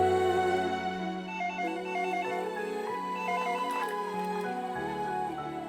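Telephone ringtone playing a repeating electronic melody over a low background hum, steady and fairly close, with no talking.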